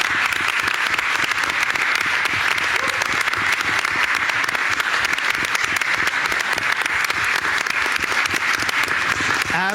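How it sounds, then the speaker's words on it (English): An audience at a Board of Education meeting gives teachers a sustained round of applause, dense continuous clapping that stays loud and even throughout without a break. "so we can give you a round of applause"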